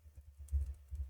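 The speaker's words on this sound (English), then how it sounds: "we can start typing" Soft, quiet computer keyboard typing during work in a 3D rendering program, a few light irregular key clicks close by with no talking.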